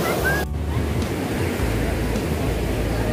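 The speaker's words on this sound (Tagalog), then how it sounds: "Sa sobrang lakas ng alon, ginagawa na lang nilang tuwaan." Strong ocean surf rolls steadily onto a beach at Isla Jardin Del Mar in Glan, Sarangani, with a loud, continuous roar and heavy wind buffeting the microphone.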